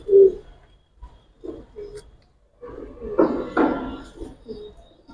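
Pigeons of the Giribaz breed coo softly nearby, with a few low, rounded calls separated by pauses and some light rustling.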